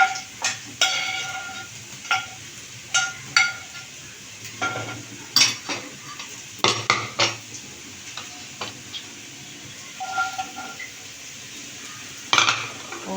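Mushrooms sautéing in a pan for paneer and mushroom biryani, a low sizzle under repeated close spatula scrapes and knocks against the metal, coming in irregular bursts throughout.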